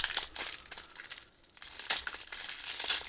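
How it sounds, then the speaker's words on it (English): A foil-type trading card pack wrapper is torn open and crinkled up close, a steady run of crisp crackling and rustling with a short lull midway before the rustling picks back up. "Let's open this pack of cards."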